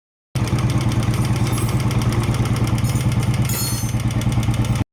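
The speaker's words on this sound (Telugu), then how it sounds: "అండ్ ఇవి ఎప్పుడైతే రన్ అవ్వడం మొదలు పెడితే మనకి ఇలాంటి నాయిస్ అనేది ఒకటి ప్రొడ్యూస్ అవుతుంది." A running Royal Enfield motorcycle engine idles with a steady, close, rhythmic mechanical clatter from the rocker arms over a low thumping beat, continuous and alone with no talk.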